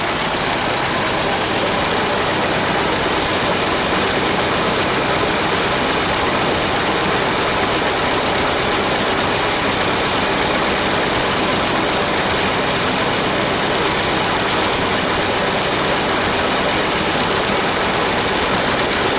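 A 1930 Ford Model A engine idles steadily and loudly on an 8-volt battery for the whole stretch, a constant rough mechanical drone with no pauses and no voices.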